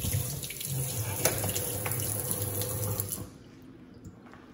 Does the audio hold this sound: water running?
yes